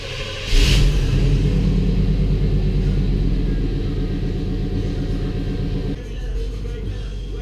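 A Volvo 240 car drives out of a home garage, its engine idling and rumbling steadily at close range with a brief rev at the start, the low drone holding and easing slightly near the end.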